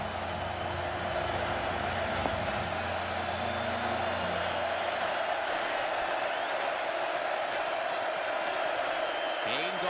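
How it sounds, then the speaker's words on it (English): Crowd noise fills a Texas football stadium during a 2014 game against Iowa State on third down, a steady, broad roar running throughout, with a commentator's voice over it in the first few seconds. "Texas crowd getting into it."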